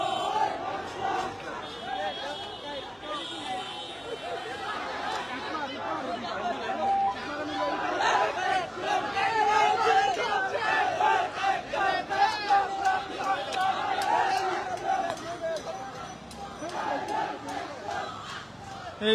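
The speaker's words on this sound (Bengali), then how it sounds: "তারা স্লোগান দিচ্ছেন" Female students of Rokeya Hall at Dhaka University chant protest slogans outside their hall, a large crowd voicing rhythmic, repeated calls in unison amid general chatter, steady and moderately distant throughout.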